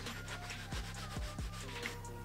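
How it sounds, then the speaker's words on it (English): Wood being sanded by hand while making a small car, with steady close scraping strokes repeating about every half second over a constant low background hum. "And sanding it down,"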